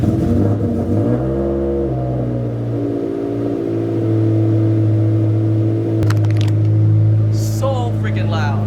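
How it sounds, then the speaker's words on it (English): A turbocharged Subaru BRZ fires up from a cold start with a loud, steady droning idle that holds throughout, with a brief mechanical clatter near the end and voices speaking over the engine. "Let's give this thing a cold start."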